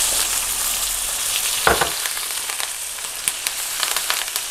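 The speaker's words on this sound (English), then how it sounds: "Let those sizzle down." Steaks sizzling and frying in a hot pan, a steady hiss with a brief louder crackle partway through.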